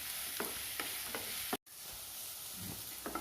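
Onions sautéing in oil for a Kerala-style egg curry, a steady close sizzle with a few stirring scrapes spaced through the clip, briefly cut to silence midway; no talking.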